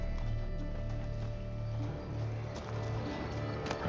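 Roach, Geralt's horse in Witcher 3 Blood and Wine, clip-clopping along in a brisk, even rhythm over a bed of game music and ambience.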